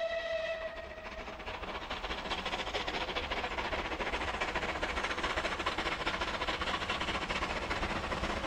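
A rebuilt West Country class British steam passenger Pacific locomotive runs with a continuous rushing, chuffing roar after a brief whistle at the start, heard from a moderate distance with no voices.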